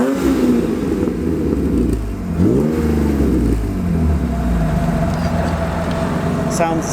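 A BMW E36 M3 engine revs up hard and falls back, then idles with a rough, rumbling exhaust and burbling pops, loud and close.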